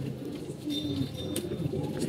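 Pigeons coo softly and close by while feeding their chicks, a low, steady murmur of calls with a faint chirp or two.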